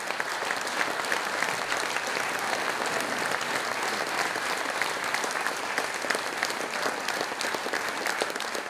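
An audience claps steadily for the Slovenian Army orchestra in Portorož, a dense, even wash of many hands that holds at a constant level throughout, with no voices rising above it.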